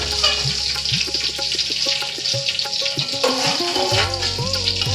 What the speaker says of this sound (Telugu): కొంచెం వేపేసేసి మామూలుగా గిన్నెలోకి తీసేసుకొని చాలా జాగ్రత్తగా వేపుకోవాలండి.